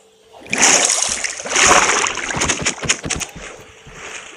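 Splashing in water in Minecraft comes as a string of close, noisy bursts and sloshes, some louder surges and then choppier splashes.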